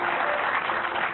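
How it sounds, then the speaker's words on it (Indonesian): An audience at an Indonesian stage event claps for a couple being introduced, a short steady wash of applause at moderate level, alone without talk. "hadirin dan pemirsa, tepuk tangan yang luar biasa"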